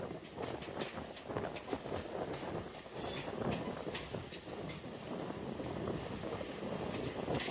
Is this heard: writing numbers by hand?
no